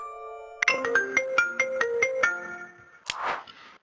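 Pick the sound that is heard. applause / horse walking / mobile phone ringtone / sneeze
mobile phone ringtone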